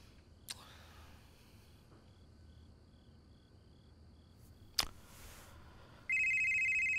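After a quiet stretch with a couple of sharp clicks, a mobile phone begins ringing near the end with a clear electronic ringtone, close and fairly loud against the hush.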